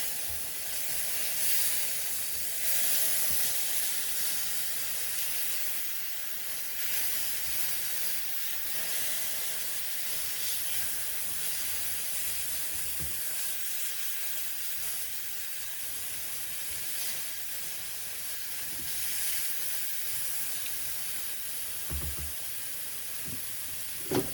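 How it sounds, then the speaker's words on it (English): Chicken tikka bhuna base gravy with tomato puree frying in a pan for a British Indian restaurant-style curry, giving a steady, even sizzle and hiss that runs throughout, with no talking. "Mix through and allow to fry for a minute."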